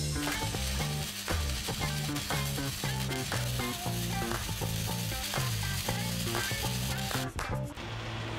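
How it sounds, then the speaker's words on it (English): A welding machine lays down metal as a homemade metal 3D printer, producing a loud, continuous crackling sizzle with steady buzzing and rhythmic mechanical ticking underneath. "Now that I could actually weld with this thing"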